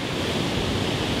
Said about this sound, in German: außer dass es recht windig und die Wellen zu hoch sind zum Schwimmen